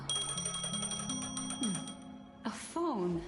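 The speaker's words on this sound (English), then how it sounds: "A phone. Wanna listen in?" A phone ringing in the Honkai Star Rail video game, a repeating electronic chime heard over game music, followed by a whooshing interface tone.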